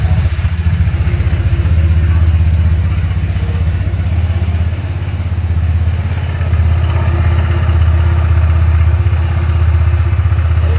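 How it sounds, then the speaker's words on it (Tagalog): A new 2025 Honda PCX 160 ABS RoadSync scooter engine runs steadily nearby, a low, even hum with a light mechanical clatter from the side of the engine throughout, no voices. "Dami nagtatanong kung maingay daw pang gilid ng bagong PCX"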